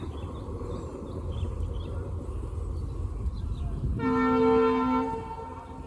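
A train rumbles by steadily, then a loud sustained horn blares for about a second before fading back into the rolling noise.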